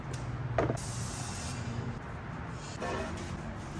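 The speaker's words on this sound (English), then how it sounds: "This one we're gonna use brake cleaner because I don't really care about the finish of this." A can of brake cleaner sprays a brake rotor, making a close, loud hiss with short pressurized bursts over a steady background hum, and no one speaks.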